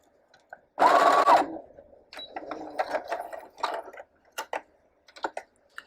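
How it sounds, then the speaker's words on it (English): A sewing machine joins two pieces of skirt fabric with a half-inch seam, first in a loud close burst of rapid stitching, then in softer intermittent runs with clicks and pauses. "take these two pieces of material and sew them together"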